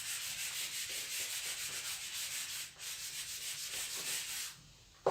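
Writing being rubbed out on a board, a quiet back-and-forth scrubbing in quick regular strokes with a brief pause midway, ending in a small knock.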